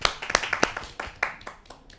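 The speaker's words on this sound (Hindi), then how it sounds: "आइए स्वागत करते हैं उनका एक जोरदार तालियों से।" A handful of sharp, close hand claps from a small audience welcoming a poet at a kavi sammelan, sparse and irregular, thinning out within two seconds.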